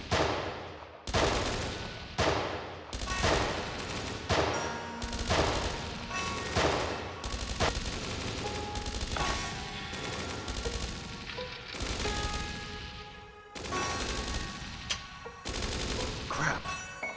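Gunfire rattles through a shootout in the video game Dreams of Another, loud bursts and rapid volleys coming close together almost without pause, with sharp shots over a heavy rumbling bed.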